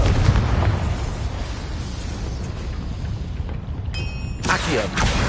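Confringo spell explosion in the Hogwarts Legacy video game, a dense rumbling blast sustained throughout with a sharper burst of crackling near the end, loud and close.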